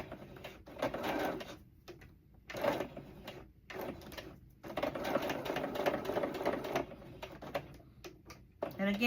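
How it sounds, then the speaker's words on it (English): A home sewing machine back stitches fabric, whirring in several close bursts separated by short pauses, the motor hum rising and falling as it runs forward and reverse. "I'm just gonna back stitch."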